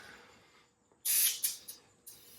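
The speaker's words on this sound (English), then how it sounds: "Figure I'd grab the aerosol can since I haven't used it before" Super Clean aerosol can spraying foam onto car wheels: a sharp hissing burst, then two short spurts and a final quick spray, close by and fairly quiet, with no talking.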